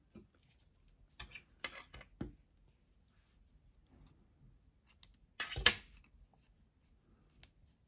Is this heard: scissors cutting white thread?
yes